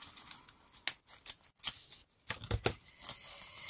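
Pinking shears with metal blades cutting scrapbooking paper, a series of close, crisp snipping crunches in uneven rhythm with brief pauses between cuts.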